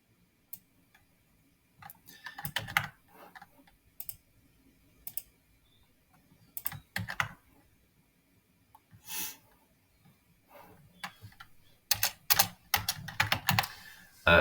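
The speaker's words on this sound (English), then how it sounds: "type your comment and click Submit" Keys clatter on a computer keyboard as a comment is typed into a ticketing web portal, in several short, uneven bursts of clicks separated by pauses, close and fairly clear with no talking.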